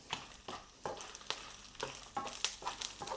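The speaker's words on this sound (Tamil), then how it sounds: "ஸோ காஞ்ச மிளகாய் வறுத்துக்கிட்டே இருக்குது" Dried red chillies and garlic cloves fry in a hot pan, a steady crackling sizzle broken by several sharp scrapes of stirring at a close, moderate level.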